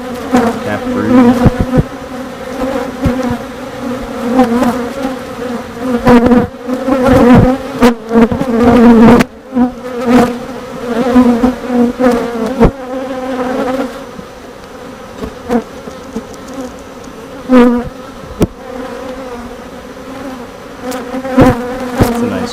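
Honeybees swarm loudly around a frame of capped brood lifted from a hive during an inspection, a dense, continuous buzz that swells and dips without a break.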